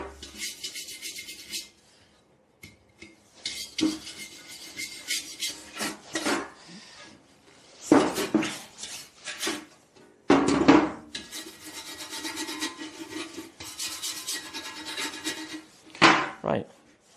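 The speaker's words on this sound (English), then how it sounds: "So I'm just using the soft brush on the areas here." A soft brush works over paint flakes on the metal of a Vespa scooter, making repeated close scratchy strokes in bursts separated by short pauses, with some handling knocks between them.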